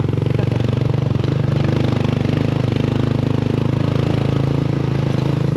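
Habal-habal motorcycle taxi engine while riding near Lake Holon in T'boli, South Cotabato, a loud close steady chugging drone with a rapid even pulse, no talk.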